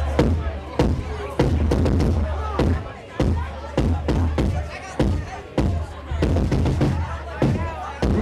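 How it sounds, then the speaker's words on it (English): Kick drum struck repeatedly at a live band show, loud booming thumps in an uneven rhythm with room noise between the hits. "Hit that kick drum."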